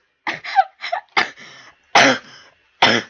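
A person coughing and clearing their throat during a Spore game session, a run of about five short, close, harsh bursts with brief pauses between them and no talking.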